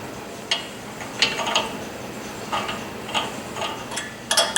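A hand tap cutting threads in a bolt hole gives off sparse, irregular metallic ticks and clicks, a few close-miked snaps over a quiet background.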